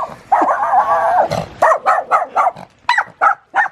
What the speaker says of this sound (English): The littlest dog with the loudest bark.